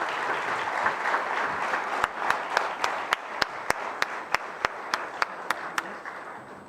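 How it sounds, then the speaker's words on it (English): Applause from a commencement audience at a business school, a dense steady clapping wash with a few sharp, louder individual claps standing out rhythmically near the microphone in the second half. "can we give a big applause to Ms. Lopamudra Banerjee?"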